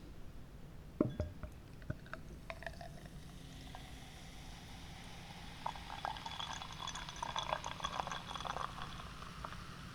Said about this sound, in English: and pour it into the glass